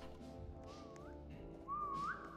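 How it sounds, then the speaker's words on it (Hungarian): A person whistling into a stereo microphone, two short melodic whistles, the second louder and rising at its end, over steady low background noise. "Én fütyülök!"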